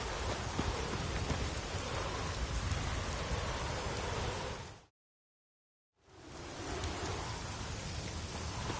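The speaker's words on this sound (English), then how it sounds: "Raining again. The worst weather we're likely to get." Steady rain pours in the open world of Witcher 3: Wild Hunt, a dense continuous hiss that stops completely for about a second midway, then resumes just as loud.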